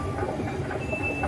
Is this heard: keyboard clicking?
no